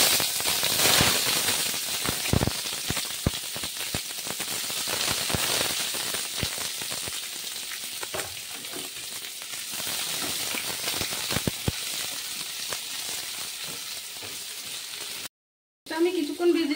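Chopped onion sizzling in hot oil spiced with cloves, a steady crackling hiss with scattered pops running throughout, briefly cut to silence near the end.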